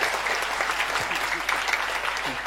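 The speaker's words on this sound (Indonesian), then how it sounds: "Ya, tepuk tangan sing banter ya sama malu." Applause from a large audience at an Islamic boarding school graduation and anniversary gathering, a dense steady wash of clapping held at an even level throughout.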